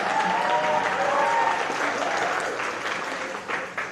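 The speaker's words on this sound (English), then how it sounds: "Yes, we can clap for that." Audience applause at a high school senior awards night, a dense burst of clapping that gradually thins and fades toward the end.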